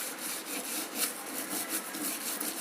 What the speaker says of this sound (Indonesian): Lalu bagian bawah sini gosok terus,